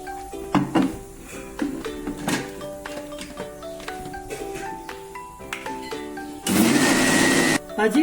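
A mixer blender crushes dhokla batter in one loud, roaring burst of about a second near the end, preceded by clunks, knocks and background music.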